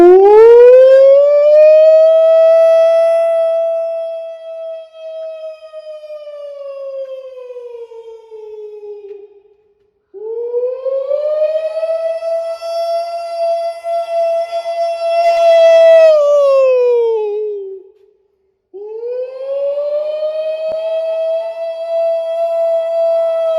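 A man imitates a tornado civil defense siren with his voice. He sustains three long, loud wailing tones that rise, hold and fall away, with brief silent pauses for breath between the wails.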